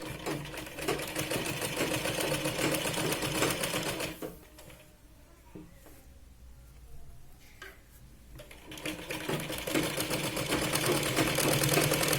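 A sewing machine stitches along the edge of a folded fabric strip for a Punjabi dress, a fast rattling run that stops for a few seconds, then starts up again louder.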